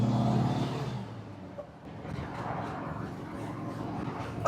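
A 1957 Volkswagen split-screen van drives along in third gear. Its engine hums as a steady, close mechanical drone with a low rumble, heard alone without speech.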